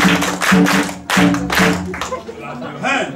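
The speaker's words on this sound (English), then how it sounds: "Clap your hand." Hands clap along to a lively African-style children's song, a few loud clustered claps in rhythm over singing voices and music.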